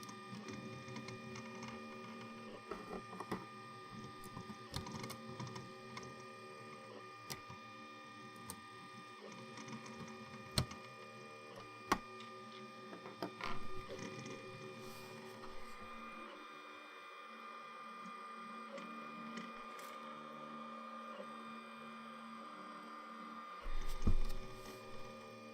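A Lonenessl SLJ8080-AE 3D printer for kids runs steadily with its nozzle rubbing on the print bed, giving a continuous mechanical hum with scattered small clicks and ticks, at moderate level throughout.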